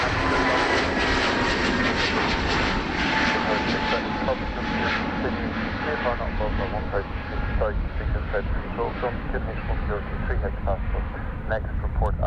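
A jet airliner departs Dublin Airport with its landing gear retracting, a loud, sustained engine roar that slowly dulls as it recedes, with radio voices talking over it.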